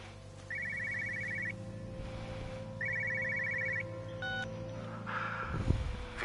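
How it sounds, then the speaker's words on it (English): An old-fashioned telephone bell rings twice in Everybody's Gone to the Rapture, two clear bursts of rapid trilling over a low ambient hum, followed by faint beeps and a rumbling disturbance. "Hear a phone."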